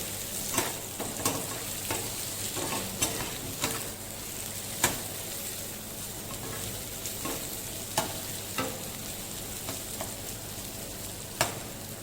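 Sliced onions sizzle steadily in hot oil in a pan, with a constant frying hiss broken by periodic scraping stirs and clinks, close and fairly loud, with no talking.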